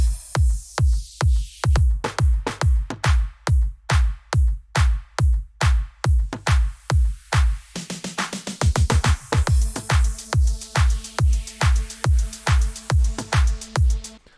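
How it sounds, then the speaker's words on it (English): Steady slap house electronic drum loop with a punchy kick on every beat and a crisp ride over it, a sustained synth tone joining partway through. "In the start we only have a kick and a ride on top of it playing"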